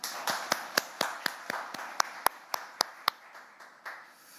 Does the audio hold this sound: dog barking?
no